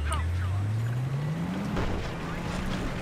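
Tank driving in Battlefield 3, a low engine drone rising steadily in pitch, loud and continuous throughout with background battlefield noise.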